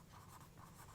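Steady scratching of writing on a board during a mathematics lecture, a continuous close stroking texture with no pauses or voice over the short stretch.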